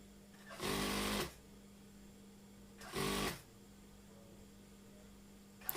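A sewing machine stitches a Kasumedangan blouse in two short, loud bursts of about half a second each, separated by quiet hum.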